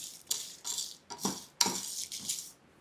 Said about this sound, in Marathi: याच्यासोबतच सुकी लाल मिरची देखील, आणि फक्त मिनिटभर एकत्र भाजायचं.